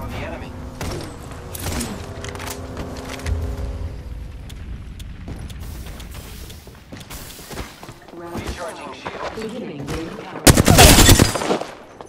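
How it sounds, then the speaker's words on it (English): Gunfire in the video game Apex Legends, repeated shots and mechanical clatter building to a loud burst of automatic fire near the end, with voices talking over it. "Opening fire on the enemy."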